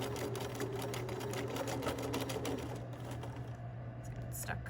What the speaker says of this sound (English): I'm sewing very, very close to the zipper teeth, but I'm not sewing on top of them